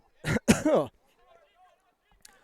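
A close, sharp double cough, followed by near silence.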